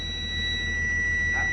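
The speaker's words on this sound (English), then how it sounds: "after the air pressure reaches 55 psi, the buzzer will stop" Low air pressure warning buzzer in a C2 school bus during an air-brake test: a steady, continuous electronic tone holding at constant pitch over a low engine idle rumble, with no talk.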